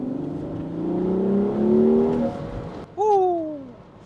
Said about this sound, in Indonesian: Semoga kedengeran ya suara knalpotnya.